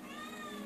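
A neutered male cat gives a single short, faint meow nearby.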